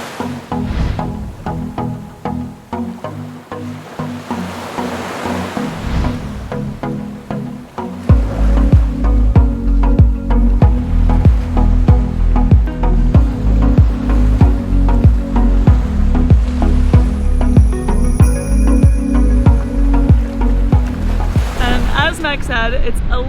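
Ocean surf on a beach at Punta del Este, Uruguay, a loud, steady rolling wash of waves that grows heavier after a few seconds, with a voice talking over it.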